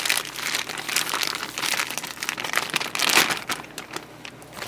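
A plastic package of one pound of dark turkey meat is torn open in a home kitchen, with close, crinkly rustling and crackling in uneven bursts.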